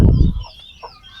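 Free-range village chickens on a small poultry farm cluck nearby, with a loud burst at the start followed by several softer, scattered clucks.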